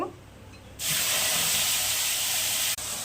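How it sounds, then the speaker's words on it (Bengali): Dried red chillies and nigella seeds go into hot oil left over from frying fish. A sudden loud, steady sizzling hiss starts and carries on close up, with a short break near the end. "মাছ ভাজা তেলের মধ্যেই শুকনো লঙ্কা দিয়ে দিলাম, কালো জিরে দিলাম"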